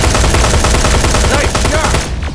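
Gunfire rings out in the Terminator Resistance video game, a loud, dense stream of rapid shots and explosive bursts that stays close and continuous before tailing off.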